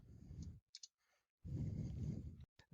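A computer mouse clicks a few times in quick succession, faint and close, between stretches of low background hum.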